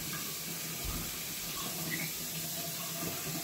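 Hot water running steadily from a tap into a sink, a soft continuous splashing hiss with no pauses, fairly quiet and without talk.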